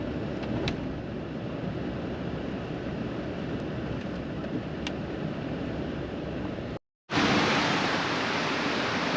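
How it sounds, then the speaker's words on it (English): Floodwater from the 2025 West Virginia floods pours off a hill in Greenbrier County and spreads over a parking lot, making a steady, dense rushing roar with no one speaking that cuts out briefly near the end and then returns louder. "You see all this water running off the hill?"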